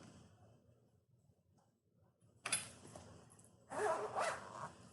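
Zipper slider being fitted onto the zipper of a fabric lunch bag: two short bursts of scraping, rasping zip noise, the second longer, close and fairly loud after a quiet stretch.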